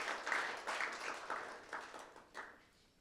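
Scattered applause at a forum appointment ceremony as a committee member receives a letter of appointment; faint, uneven bursts of clapping that fade away by the end.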